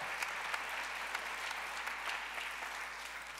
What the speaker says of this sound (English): Okay, Fran, a round of applause.